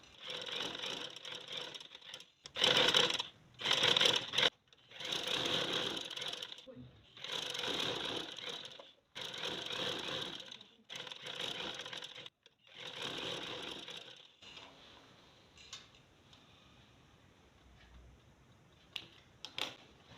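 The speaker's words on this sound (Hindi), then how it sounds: "ये आपने आधा आधा इंच का गैप छोड़ना है और किनारी की सिलाई लगानी है" A sewing machine stitches pintucks into trouser fabric with small stitches, running in about seven firm bursts separated by short pauses, close and fairly loud, with faint quiet handling afterwards.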